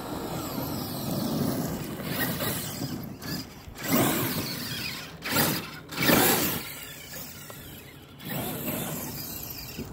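Whirring, clattering gear noise from a Traxxas X-Maxx RC truck running on storage-charged batteries, rising and falling in bursts with a few brief surges of louder drive.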